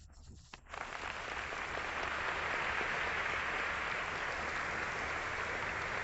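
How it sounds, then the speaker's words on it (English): A crowd bursts into loud, steady applause after a brief quiet moment, the clapping holding full and even until the end. "We're going to welcome you with applause."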